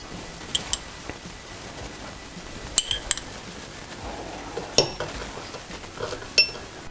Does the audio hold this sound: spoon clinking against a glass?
yes